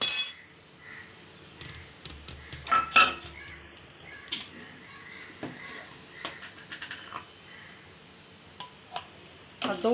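A spoon mixing curd into flour and semolina in a bowl for bhatura dough: irregular metallic clinks and scrapes against the bowl, some sharper taps, over quiet background.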